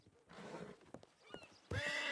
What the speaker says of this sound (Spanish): este es su caballo